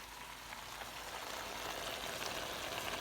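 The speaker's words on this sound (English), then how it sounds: "stir fry cooking" A stir fry of vegetables including celery cooks in a pan, giving an even, soft hiss like light rain that stays low and steady without speech.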